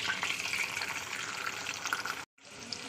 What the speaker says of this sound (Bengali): তো চলুন তেলটা একটু গরম হয়ে গেছে, দিয়ে দিচ্ছি পেঁয়াজ